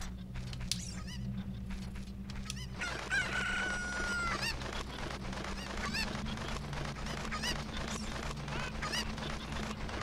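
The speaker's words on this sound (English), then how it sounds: "Oh, this chicken." A chicken in Zelda: Ocarina of Time Randomizer crows and clucks clearly over a steady background drone of game music, with several short squawks following one long crow.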